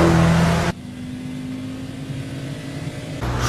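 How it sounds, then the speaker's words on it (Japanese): A Mitsubishi Lancer Evolution with a tuned engine in a night highway street race on a Japanese expressway, its steady engine drone holding for a few seconds, then a sharper louder burst at the end, with no talk. "なにわナンバーでえらくいい音させているランエボ。"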